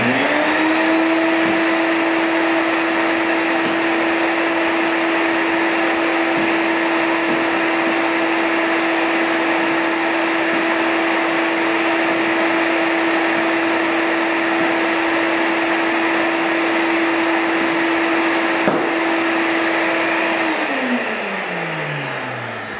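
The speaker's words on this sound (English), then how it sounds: "I'm going to suck up some stuff, polyurethane that I've sanded from the floor here" A homemade vortex particle separator built from plastic food containers, fitted to a vacuum, sucks up sanded polyurethane dust from a floor. It gives a loud, steady motor whine that runs unbroken for about twenty seconds, then winds down at the end.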